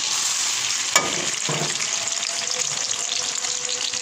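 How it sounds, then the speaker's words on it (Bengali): Dried red chillies and garlic frying in hot oil, a dense continuous sizzle close up, with a sharp clack and a brief scrape near the start. "আমি এখানে 3টা শুকনো মরিচ দিয়ে দিচ্ছি তেলের মধ্যে"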